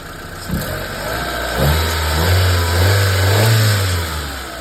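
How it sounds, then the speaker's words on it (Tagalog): A Mitsubishi Lancer engine revs up and holds a rough, throaty drone, rising and falling in pitch, close and loud with a steady hiss in the background. "Tunog yung makina niya oh."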